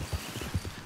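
Horse hooves clip-clop in a steady rhythm of soft, low thuds, a horse walking in the video game Red Dead Redemption 2, fairly quiet and alone without talk.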